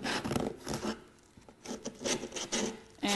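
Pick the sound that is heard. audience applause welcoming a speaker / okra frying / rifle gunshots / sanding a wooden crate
sanding a wooden crate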